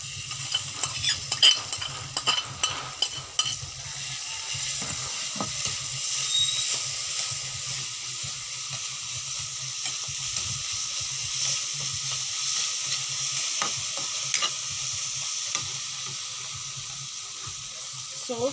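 Chili paste stirred and fried in a pan, giving a steady sizzle with scraping stirs and clinks, loudest early on and then settling into a constant hiss.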